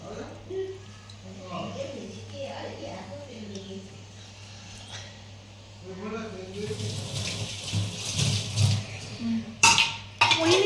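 Water runs and splashes into a pan being rinsed at a sink, growing louder in the second half with a few clinks of cookware, while a person talks earlier over a steady low hum.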